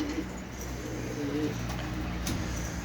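Pigeons cooing in a coop, soft low repeated coos over a steady background hum, fairly faint and near, with no talking.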